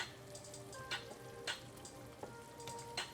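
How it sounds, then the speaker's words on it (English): Rice frying in melted margarine in a skillet over high heat gives off a soft, steady sizzle, with several sharper scrape and stir bursts close by. "I'm going to go ahead and add some rice to the skillet."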